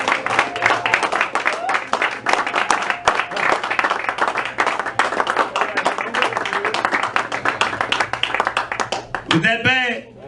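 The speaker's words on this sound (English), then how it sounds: "Give him another round of applause." Sustained applause from a crowd, steady dense clapping lasting several seconds, ending as a voice begins to speak.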